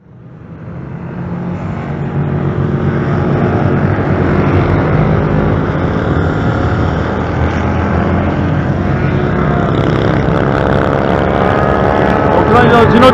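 Twin-cylinder race motorcycles on a track session, a dense continuous engine roar building from quiet to loud and holding steady, several bikes blending together at close to middle distance.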